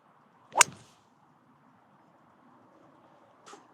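A Callaway Elyte fairway wood strikes a golf ball in one sharp, loud thwack with a quick swish, followed by a fainter second impact-like sound about three seconds later against a quiet background.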